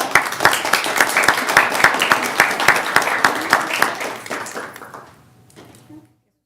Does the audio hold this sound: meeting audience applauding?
yes